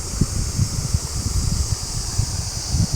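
Gusty wind buffets the microphone beside the Heuang River rapids on the Laos–Thailand border, a steady rushing hiss with irregular low rumbling thumps throughout, close and fairly loud, with no speech.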